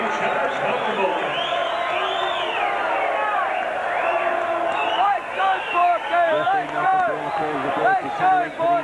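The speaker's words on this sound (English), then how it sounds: "the atmosphere here is electric and the crowd are on their feet" At a boxing event in Springvale, Victoria, a big crowd roars and cheers throughout, and a commentator's voice runs over the noise with rising whoops.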